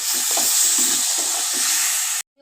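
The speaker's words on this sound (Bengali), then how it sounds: "মশলা কষানো হয়ে গেছে, এখন আমি এর ভিতর চিংড়ি মাছ দিয়ে ভালো করে কষিয়ে নিব।" Prawns fry in a pan with onion, garlic, cumin and turmeric paste, giving a steady close sizzle with light stirring scrapes before it cuts off abruptly near the end.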